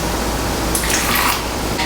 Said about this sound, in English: This is just hot water.